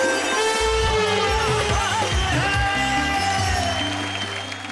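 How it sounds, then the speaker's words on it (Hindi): A theatre audience at a live Hindi comedy and poetry show applauds and cheers loudly as a poet is welcomed to the stage, a dense sustained roar with a musical fanfare that eases off slightly at the end. "आइए जोरदार तालियों के साथ।"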